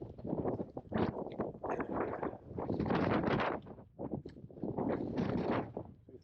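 Strong wind buffets a microphone outdoors on Harris and Lewis, loud rumbling gusts that surge and drop in uneven waves, close and continuous with no other sound standing out.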